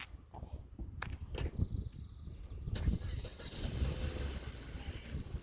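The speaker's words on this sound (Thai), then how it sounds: "เราก็จะถอยรถ เอารถมาลากตรงนี้" A car engine runs low and steady as the vehicle reverses to hitch a trailer outdoors on a cold, overcast day, with scuffing footsteps and small knocks early on, then a broader rumble.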